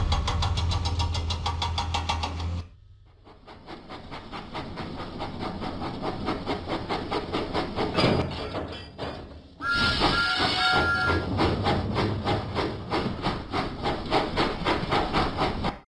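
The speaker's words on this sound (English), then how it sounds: "Thomas pumped his pistons and puffed out of the docks" A steam locomotive in a Thomas & Friends video game chugs steadily with rhythmic puffs and loud hissing bursts. The sound continues throughout with a short drop partway and a sharp hiss near the end.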